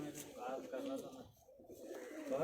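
Jaaldar pigeons coo softly in a steady murmur, several birds overlapping at close range, with a brief lull midway before the cooing resumes.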